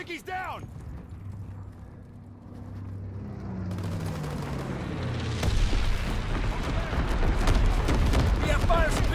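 Airstrike in the video game Call of Duty: WWII: a droning aircraft pass builds into a heavy, sustained rumble of explosions and crackling debris that grows louder and fills the scene, with a brief sharp impact near the start.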